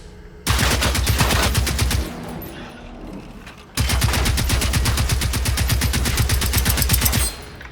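Rapid automatic gunfire aimed at hostile machines in the video game Generation Zero, two long sustained bursts of evenly spaced shots, loud and close, separated by a short pause.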